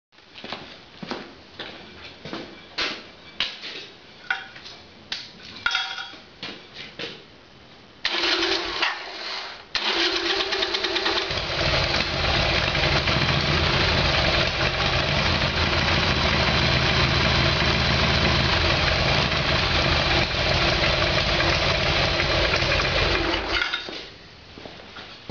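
A Harley-Davidson Evolution Sportster with a carburettor problem gets some clattering and clinking first, then its engine fires at about eight seconds and runs on at a steady, loud idle for roughly fifteen seconds before cutting off.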